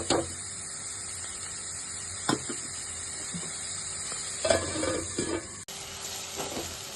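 Onions sautéing in a pan for egg curry, a steady, close sizzle broken by several scraping and clattering stirs of a spoon, with no talking.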